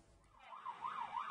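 An ambulance siren wails in a rising and falling pattern on a road, quiet at first and growing louder as it draws nearer, with no voices.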